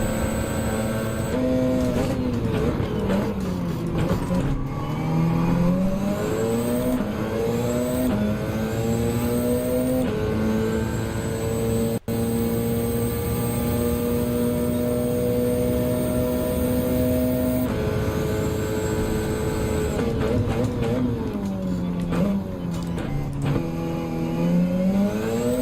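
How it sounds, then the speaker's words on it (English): Race car engine in Gran Turismo, a VTEC unit with turbo boost, revving hard and continuously with rising and falling pitch sweeps as gears shift through a sustained loud drive with no pauses. "The thing hit the turbo boost. The VTEC kicked in right there."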